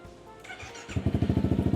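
A 2020 Yamaha XMAX300 big scooter with a modified exhaust starts after a short whirr of the starter, then settles into a loud, close, rhythmic idle thump.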